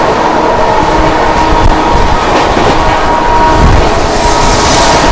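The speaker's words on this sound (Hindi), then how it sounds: "सामने ओवरटेक कर रहे हैं जम्मू तवी संबलपुर एक्सप्रेस।" The Jammu Tawi–Sambalpur Express overtakes close by at speed, making a loud, continuous roar of wheels and rattling carriages with steady rail clatter.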